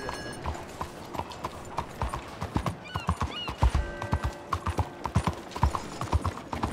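Horse hooves clip-clop at a steady gallop in the Red Dead Redemption 2 video game, a continuous rhythmic pounding that runs throughout the ride, with an occasional whinny and no talking over it.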